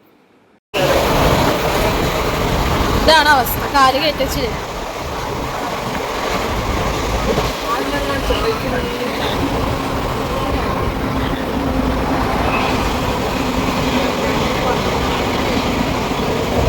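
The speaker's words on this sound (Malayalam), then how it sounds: "കടകടയെന്ന് പറഞ്ഞിട്ട് ട്രെയിൻ ഇങ്ങനെ പോകുമ്പോൾ" A steady rumbling rattle of a train moving along tracks over water, continuous and close, with a few brief squeals and people talking over it.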